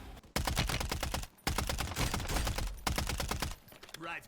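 Rapid automatic gunfire in the Warzone video game, dense bursts of shots crackling loud and close with brief pauses between volleys.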